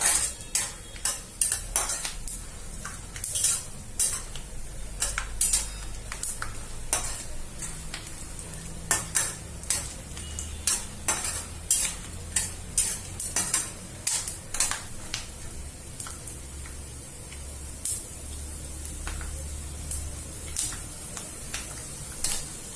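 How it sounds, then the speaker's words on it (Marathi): Peanuts fry in hot oil until brown in a pan for kande pohe. A steady sizzle runs throughout, broken by frequent sharp scrapes and clinks from the stirring spoon against the pan. No one speaks. "त्याच्यात शेंगदाणे तळून घेऊ आता शेंगदाणे चांगले ब्राऊन रंगाचे होईपर्यंत मस्त भाजून घ्यायचे"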